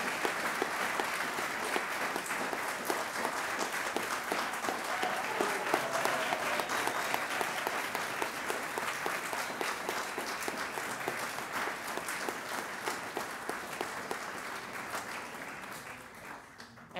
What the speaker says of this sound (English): I wanted to ask one final round of applause to honor Professor Johann Stapper